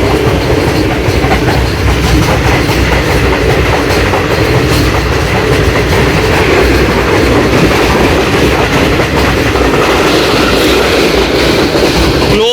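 The Karachi Express rolls loudly along the rails between Multan and Lahore, a constant close rumble with rhythmic clickety-clack of the wheels and no voices.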